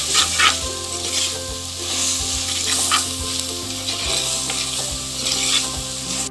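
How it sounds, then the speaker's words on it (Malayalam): Banana stem and anchovies are stir-fried in a hot pan, giving a continuous loud sizzle broken by repeated scraping stirs of the spatula, with no voices. "ഇനി നമുക്ക് വാഴപ്പിണ്ടിയിലേക്ക് നത്തോലി ഇടാം."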